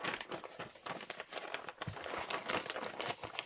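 Close, busy crinkling of a plastic bag as quilt batting for a Christmas sewing project is handled and pushed back inside it. The crackling rustles come in quick, irregular bursts, with no talking.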